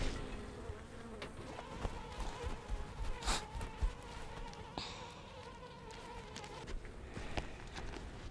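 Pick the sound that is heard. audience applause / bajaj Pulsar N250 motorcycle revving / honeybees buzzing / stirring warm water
honeybees buzzing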